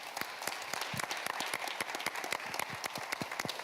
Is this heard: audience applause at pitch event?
yes